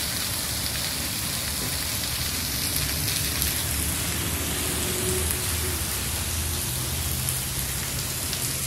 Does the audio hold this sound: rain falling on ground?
yes